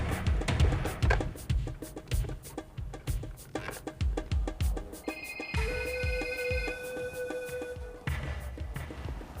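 During a phone call, a telephone rings with a steady tonal ring lasting a couple of seconds, after a run of rhythmic thuds, in a Hindi TV drama scene.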